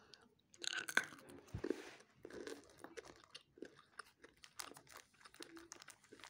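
Close, crunchy chewing and biting of M&M's egg-shaped chocolate candies, irregular bites and crinkles with a wrapper rustle, no talking.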